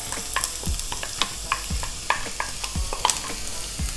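Onions frying in olive oil in a medium pot, a close, lively sizzle broken by repeated stirring scrapes and clinks, no talking.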